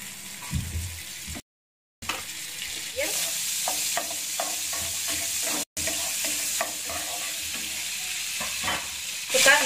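Onions stirred in a hot Teflon pan for Japanese curry, with close frying sizzle and repeated scraping stir strokes, broken by two brief silent gaps.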